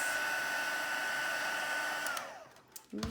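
A heat embossing tool blows hot air to melt embossing powder on black paper, a loud, steady whirring rush that cuts off after about two seconds and winds down, followed by a faint clatter.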